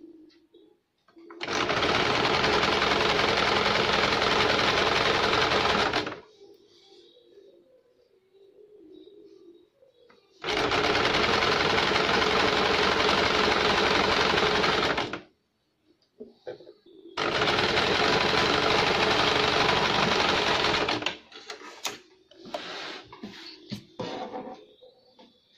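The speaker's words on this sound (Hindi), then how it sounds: "इस तरह से प्रेस से चिपकाने के बाद अब हम साइड से यहाँ से फोल्ड करके सिलाई देंगे।" An electric sewing machine stitches a folded back neck edge in three long, loud, steady bursts with short pauses between them, and faint handling noises fill the gaps.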